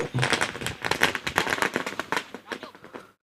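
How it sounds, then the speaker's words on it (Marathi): A rapid string of sharp crackling pops of firecrackers going off close by at a cricket semi-final, rattling in quick succession before trailing off. "फटाक्याच्या आतिषबाजीमध्ये आगमन होते."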